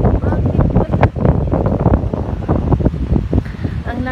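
Strong wind buffets the microphone at a seashore, a loud continuous roaring rumble with gusting surges, with surf faintly mixed into the roar.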